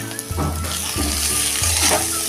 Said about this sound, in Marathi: बघा आता थोडा वेळ परतून घेऊया